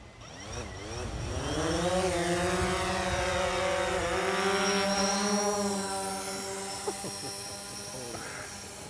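A mapping drone takes off to fly its route, rotors spinning up into a steady whining buzz with shifting tones, close and moderately loud throughout.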